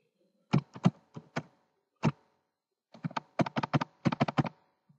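Quiet keystrokes on a computer keyboard as a password is entered, a short burst of taps, a pause, then a quicker run of clicks, close and clean with no talking.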